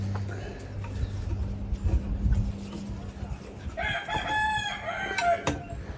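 A rooster crows partway through, a clear drawn-out cock-a-doodle-doo at moderate distance over low background hum.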